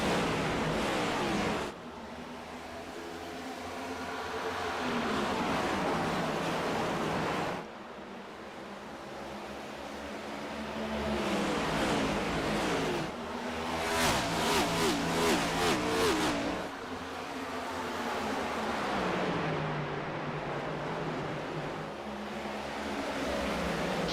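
Race cars lapping Dover Motor Speedway in an iNASCAR sim racing game, engines droning steadily and loudly for the whole stretch, with shifting pitch as the pack passes and a rising rev sweep midway.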